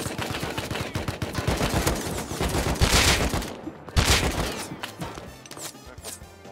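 Sustained gunfire in the survival game Rust: dense overlapping bursts of automatic and single shots rattle continuously, loud and close, with heavier blasts cutting through the barrage.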